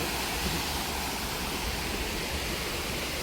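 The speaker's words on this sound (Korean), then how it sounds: "오, 작은 폭포도 있네." A small waterfall in a park makes a steady, close rushing and splashing of water that fills the whole stretch evenly, with no voices over it.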